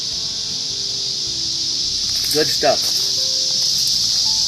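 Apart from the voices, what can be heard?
cicadas buzzing in the background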